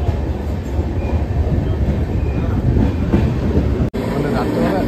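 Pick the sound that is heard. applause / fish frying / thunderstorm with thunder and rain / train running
train running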